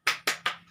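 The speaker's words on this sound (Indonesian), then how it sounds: "Kita akan melakukan tepuk semangat." A classroom group claps in unison three sharp, evenly spaced times, a quick rhythmic spirit clap with the last clap slightly softer and fading out.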